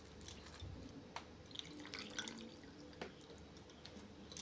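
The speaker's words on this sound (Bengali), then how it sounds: "এখন বাকি যে জলটা ছিল সেটা আমি দিয়ে দিলাম" Water poured into a semolina and yogurt batter in a kitchen, a faint, brief trickle with small drips and splashes, quiet and close with no talking.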